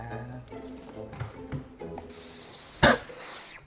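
A single sharp cough bursts out near the end, following a stretch of soft clicks and quiet background sounds.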